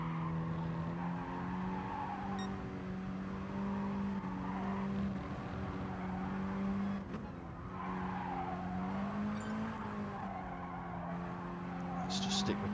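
Mini Cooper race cars circle the Suzuka East circuit in a one-make cup race, with engines droning and tyres squealing at a distance beneath continuous live commentary.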